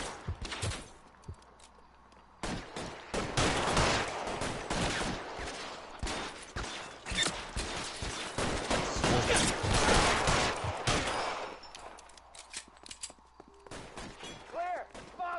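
Gunfire in the video game L.A. Noire: dense bursts of shots crackle loudly and almost continuously for most of the stretch, with brief lulls near the start and end, under shouted voices.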